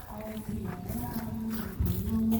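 A cow moos at close range on the grounds of a coffee shop in Prasat district, giving one long, low, drawn-out call that swells near the end. Faint background murmur sits underneath.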